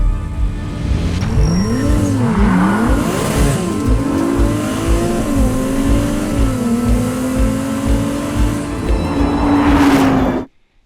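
Ferrari 296 sports car engine revving up and down in rising and falling pitch sweeps, then settling into a steady drone as it drives, loud and close, ending in an abrupt cut.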